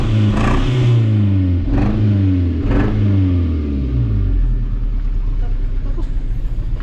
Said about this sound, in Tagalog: Pakinggan po natin yung andar nitong ating Mazda 3